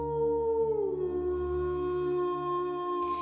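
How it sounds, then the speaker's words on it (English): A lobizon, a werewolf creature that mixes human and dog, lets out a long, loud, tonal howl that bends downward and then holds a steady pitch. "would stretch and let out its fearful howl when it hunted"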